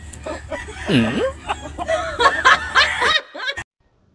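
A rooster crows with a rising and falling call near the start, followed by clucking fowl calls and chuckling sounds, fairly close, before the sound cuts off abruptly.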